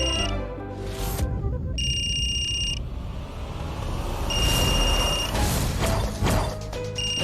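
A phone rings during a meeting in an Indian drama series, its bright electronic tones coming in repeated bursts over a dense, busy background.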